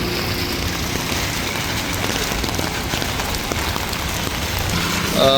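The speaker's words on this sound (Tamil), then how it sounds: "மழை வெளுத்து வாங்க துவங்கிட்டு" Steady, dense rain pouring down hard and continuously, a broad hiss with spattering drops, a faint low engine hum underneath.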